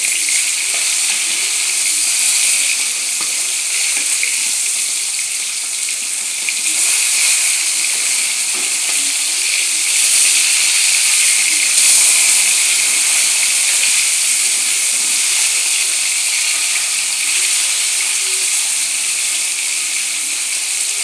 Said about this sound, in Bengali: মাছগুলো এক পিঠ ভাজি হয়ে গিয়েছে, এখন আরেক পিঠ উল্টিয়ে দেব